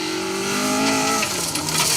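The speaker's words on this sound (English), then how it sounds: "which is why you can hear a lot of the gravel being dragged up under those wheels" A historic rally car drives a gravel stage at a stately home venue, its engine note rising and falling close by while gravel is churned and sprayed beneath the wheels in a steady hiss.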